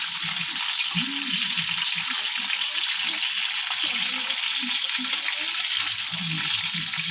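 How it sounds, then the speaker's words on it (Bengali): Spices frying in oil in a pan for a chicken curry, giving a constant loud, close sizzle with faint speech underneath. "এখন সব মশলাগুলো আমি ভেজে নেব।"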